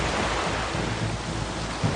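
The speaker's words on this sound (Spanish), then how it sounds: "Las devastadoras olas de una tormenta invernal arremeten contra un ruinoso muelle de Santa Mónica" Winter storm waves crash against a ruined Santa Monica pier, giving a loud, steady roar of surf and wind with a heavier thump near the end.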